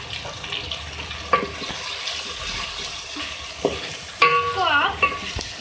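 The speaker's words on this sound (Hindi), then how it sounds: "भूनेंगे इस मसाले को।" A masala of coriander powder, turmeric, red chili powder and cumin sizzles in a pan with a constant soft crackle, while a spoon scrapes and clinks against the metal every few seconds.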